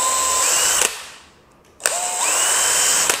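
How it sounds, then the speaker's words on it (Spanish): A power drill whines steadily up close while boring a lock hole in a wooden door, stops briefly, then starts again and runs another spell, its pitch rising as it spins up. "puedo hacer con el taladro, con la punta"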